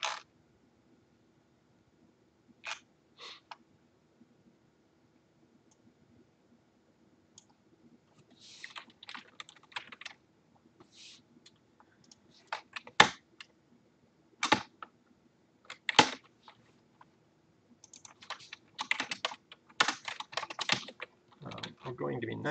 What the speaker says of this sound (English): Just keyboard.